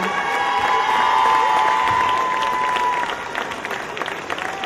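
Audience applause with some cheering breaks out after performers are introduced at a live event, loud and steady for about three seconds, then thinning into scattered claps.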